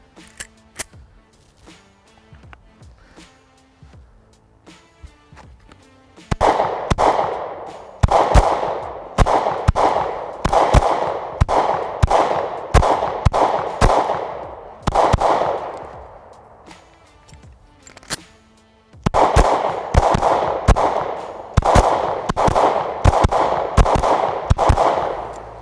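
Springfield Hellcat Pro pistol shots ring out loud and close, starting as a few sparse pops, then rapid strings of shots in two long bursts with a short lull between them, no talking over them.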